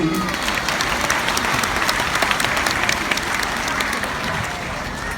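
Steady applause fills a ship's event as the Australian chief engineer, Vincenzo Capaluti, is welcomed, with clapping continuous and full throughout and a faint voice underneath, tapering slightly near the end.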